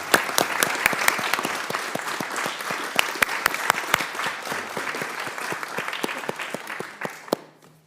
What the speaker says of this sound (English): I'd like to have a round of applause for a great guy.